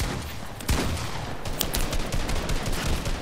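Rapid bursts of gunfire in Fortnite crackle in quick succession, sharp and dense, with a steady background hiss between the shots.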